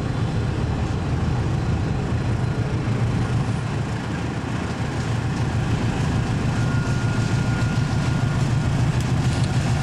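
Container freight train passing on a railway line in Indonesia, steady dense rumble and rolling wheel noise that stays loud and constant throughout, close by with no pauses.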